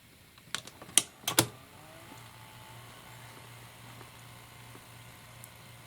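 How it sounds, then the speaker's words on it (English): A Sony SL 2005 portable Betamax VCR loads a tape with a few close mechanical clicks and clunks in quick succession, then settles into a faint, steady motor hum. "My first time ever loading a beta tape into a supposedly working VCR."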